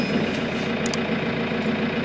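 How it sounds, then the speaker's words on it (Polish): A Case IH Luxxum tractor's diesel engine idles steadily nearby, a continuous low rumble with a faint rattle and no voices. "dajemy sobie maszynę w pozycję zapłonu i uruchamiamy silnik"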